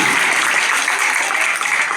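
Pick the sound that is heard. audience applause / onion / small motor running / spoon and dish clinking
audience applause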